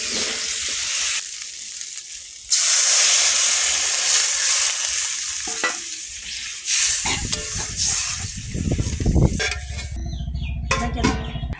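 Ground ginger paste fries in a hot pan with a steady, loud sizzle and hiss that swells sharply after a couple of seconds, overlaid by stirring scrapes and a few close utensil clinks toward the end, with no talking.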